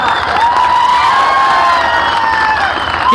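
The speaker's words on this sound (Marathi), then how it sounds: "जोरदार टाळ्या वाजवा ऐकायला जाऊ द्या" Sustained cheering and clapping from a large political rally crowd, a constant roar of mixed voices and applause with a wavering high whistle-like tone threaded through it.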